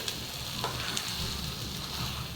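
Green pea paste fries in a pan over low-medium flame while being stirred constantly, giving a continuous close sizzle with small scraping clicks throughout and no voices.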